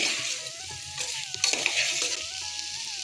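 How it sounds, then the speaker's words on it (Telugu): Moong dal with vegetables and spices frying in a pan, giving a steady, loud sizzle with occasional scraping stirs throughout and no voices. "ఇలా ఒక పెసరపప్పు అన్నీ కలుపుకున్న తర్వాత ఒక 5 మినిట్స్ అయితే వేగాలి"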